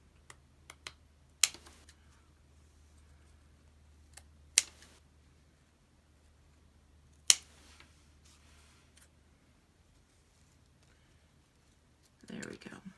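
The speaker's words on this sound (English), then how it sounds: "I'm going to cut these up a little bit." Scissors snipping decorations for homemade decorative candles, a handful of sharp isolated clicks spaced several seconds apart in a quiet room, with a brief rustle near the end.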